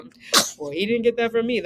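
A single short, sharp sneeze bursts out near the start, followed right away by a person talking.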